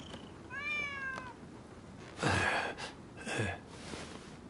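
A stray cat meows in the video game Rise of the Ronin, a few rising mewing calls followed by two louder bursts against a faint, steady game background.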